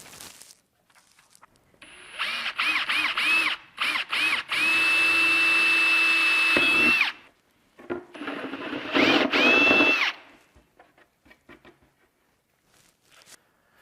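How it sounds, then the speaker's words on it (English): A power drill bores a hole for an auxiliary input jack during a Honda Talon SSV stereo install, whining in short bursts and a longer steady run, with pauses and light handling clatter. "I will drill a hole for my auxiliary input."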